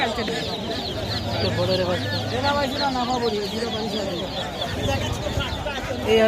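Broiler chickens cluck and squawk continuously at a busy rural livestock market, a dense flock chorus close by, with people talking throughout.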